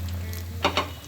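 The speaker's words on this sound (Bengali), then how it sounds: "এটা আমি এখন তেলে ভাজবো।" Potato and noodle snacks deep-frying in oil over low heat make a steady close sizzle, with two quick scraping stir sounds near the end, no voices.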